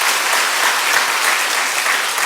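A church congregation gathered for a Korean elder's testimony service breaks into applause, a thick, continuous burst of many hands clapping, loud and close.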